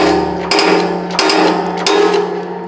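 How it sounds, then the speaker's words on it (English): A press runs loudly in a home garage during an off-road Jeep JKU build, steady mechanical noise broken by several sharp metallic impacts, close and continuous with no talking. "My press is too loud."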